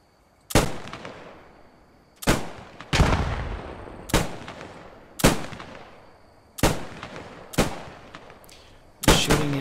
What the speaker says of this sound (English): Shooting into the dark.